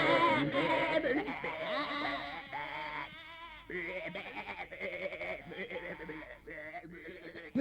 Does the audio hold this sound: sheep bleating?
yes